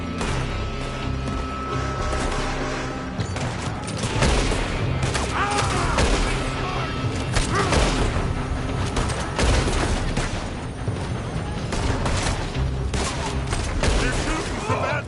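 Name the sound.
gunfire from shooters in a building, video game Red Dead Redemption 2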